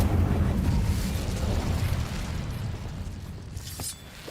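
Incendio fire spell in Hogwarts Legacy: a loud roaring blast that rumbles low, then decays over several seconds into crackling, with a small pop near the end.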